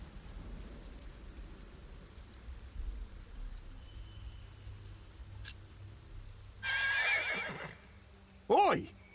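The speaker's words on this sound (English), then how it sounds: "Don't you dare touch William's horse!" A horse in a video game neighs twice near the end, a long whinny followed by a short sharp one, over a steady background hiss like rain.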